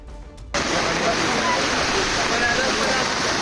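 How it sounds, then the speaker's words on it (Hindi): Floodwater after four days of heavy rain in Sawai Madhopur surges past in a loud, constant roar of rushing water that begins abruptly and carries on without a break. "पानी का तेज बहाव और उसका रौद्र रूप, बाढ़ बारिश की ये तस्वीरें डराने वाली हैं।"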